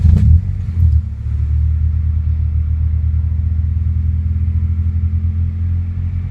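An Integra's engine, recently converted to OBD1, idles in a steady low rumble after a short burst at startup, with the sound staying close and constant and no one talking.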